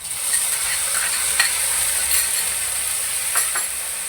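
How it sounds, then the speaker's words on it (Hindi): Onions sizzle and fry in a pan with ginger, garlic and green chili paste, a steady close hiss with a few soft stirring scrapes throughout. "अब इसको हमने अच्छी तरह थोड़ा फ्राई करना"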